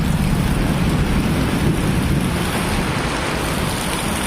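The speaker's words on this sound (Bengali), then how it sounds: "সকালে কত বৃষ্টি নামছে" Heavy morning rain pours down on a rural village, a loud, dense and unbroken roar of falling water throughout, with no voices.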